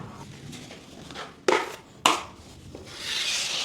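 A drywall taping knife skims joint compound across either side of a butt joint, making a soft, close scraping rub with two sharper scrapes in the middle and a brighter swish at the end, with no talking.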